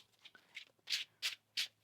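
Tarot cards are shuffled close up, with soft light riffles followed by three crisp, evenly spaced bursts of cards slapping together, quiet and alone.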